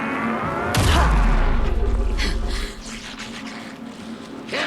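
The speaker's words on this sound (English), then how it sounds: "Shoot him to pin him down." Gunfire from the video game Alan Wake 2, a heavy booming shot with a deep rumbling tail and rapid follow-up crackle, loud and close, then a quieter scuffle.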